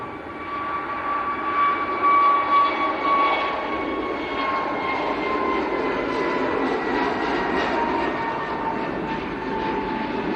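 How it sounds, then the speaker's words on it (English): EasyJet Airbus A320neo taking off from Leeds Bradford Airport, a steady broadband engine roar holding loud throughout, with a whining tonal hum and a slight swell early on as the jet rolls down the runway. "So EasyJet to Belfast, A320 Neo, rolling now."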